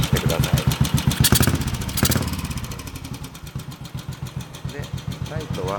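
A Royal Enfield Bobber custom motorcycle engine idles up close with a steady, rapid thumping pulse and brief revs, running loud throughout with a voice talking over it.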